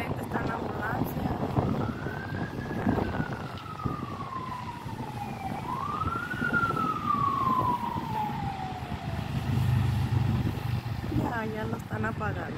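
Fire engine and ambulance sirens at a house fire sound in two slow rising-and-falling wails from down the street, over constant low rumble and wind, with brief voices near the end.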